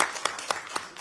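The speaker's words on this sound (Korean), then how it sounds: "박수." A short burst of applause at a political gathering, cheering an Olympic snowboard halfpipe gold medal: evenly spaced, rhythmic claps that form a brief clapping pattern, with no talk over it.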